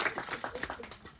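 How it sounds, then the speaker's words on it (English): Board members of Towsontowne-Hunt Valley are honored with a short burst of audience applause in a meeting room, scattered hand claps at moderate distance, fairly quiet and ending within about a second. "Please give them a round of applause for their service."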